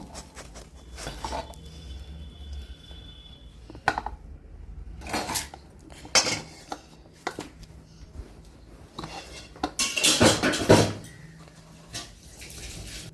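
Hot cooked chana dal mixture is scraped from a pan onto an oiled plate, with irregular metallic scrapes, clatters and knocks of utensil against metal, some sharp and loud, spread between quieter pauses.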